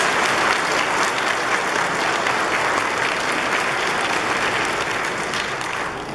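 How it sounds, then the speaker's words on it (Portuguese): Church congregation applauding Padre Leonel at a Sunday Mass, a steady, full round of clapping that holds strong throughout and eases only slightly toward the end. "uma salva de palmas então para ele"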